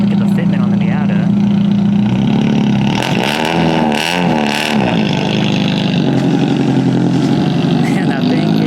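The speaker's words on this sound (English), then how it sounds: "look at the Mazda 787B Tribute. And Miata. Oh my god, it's loud." A loud Mazda Miata engine revs and drones steadily at a Tokyo car show, swelling in a few pitch sweeps midway, with crowd and event noise mixed in.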